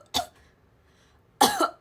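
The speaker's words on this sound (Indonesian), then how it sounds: "aku batukin kalian" Two separate coughing bursts from a woman during a casual livestream chat, one short cough early and a longer, louder cough near the end, with near-silence between them.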